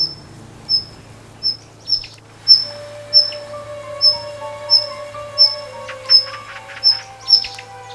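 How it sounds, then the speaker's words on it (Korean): Daurian redstart parents give sharp, high alarm chirps at a snake nearing their nest, at a steady, regular rhythm, about one per second, loud and close over a low hum. "쇠살모사의 접근을 알아챈 어미새들이 시끄럽게 울어대기 시작한다."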